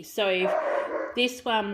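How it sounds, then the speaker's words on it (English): Pet dogs playing outside on a nice day bark loudly through an open door, a few sharp close barks with a brief gap between them, overlapping a person talking. "pardon my dogs in the background"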